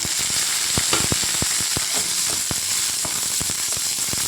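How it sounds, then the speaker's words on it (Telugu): Green chillies and urad dal fry in hot oil for a cucumber chutney, giving a steady close sizzle broken by frequent sharp pops and crackles throughout. "కొద్దిగా వేగిన తర్వాత పచ్చిమిరకాయలు వేసుకోవాలండి."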